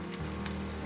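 Vadagam fried in hot oil for tempering a turkey berry kara kuzhambu gives a steady, dense sizzle, close and even throughout with no voices.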